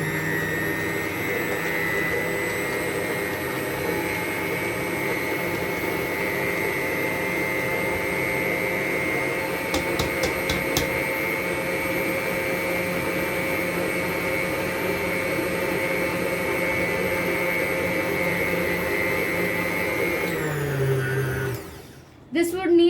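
A stand mixer kneads bread dough for sausage bread rolls, its motor giving a steady, close whir that runs unbroken for about twenty seconds before winding down and stopping near the end.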